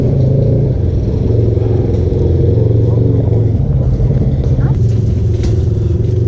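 A Razor side-by-side off-road vehicle engine runs steadily throughout, a loud, constant close-up drone with clattering, while people talk over it.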